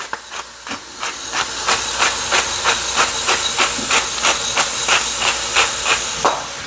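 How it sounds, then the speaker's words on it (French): Meat and onions boil in a covered pot for eru. Loud, close, rhythmic puffs of hissing steam repeat about twice a second over a constant bubbling rush, with no voices. "je vais faire bouillir ma viande avec des oignons"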